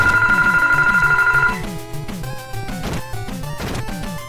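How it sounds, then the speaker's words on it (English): A telephone rings loudly with a sustained electronic tone, then cuts off as retro video game music and effects from Tecmo Super Bowl continue. "I blame the phone that was ringing!"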